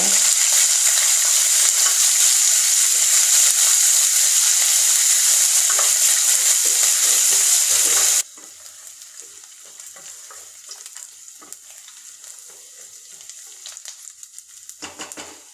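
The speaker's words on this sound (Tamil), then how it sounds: "கொஞ்சமாக பெருங்காயம் சேர்த்துட்டு வெங்காயத்தை நல்லா வதக்கிடுங்க" Onions fry with curry leaves and asafoetida in a pan, a loud, bright sizzle for about eight seconds that then drops abruptly to a much quieter crackle with occasional stirring clinks.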